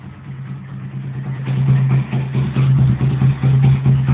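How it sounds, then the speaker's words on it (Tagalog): A Hurricane motorcycle engine idles steadily after a cold start, a close, loud, even low thrum with a faint clatter that swells slightly partway through, with no voices. "narinig nyo, in-start ko yung makina ng Hurricane"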